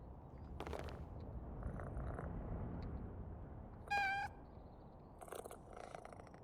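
A cat makes a low, rumbling purr-like sound close by, broken by one short, clear meow midway and a few soft rustles, with no talking.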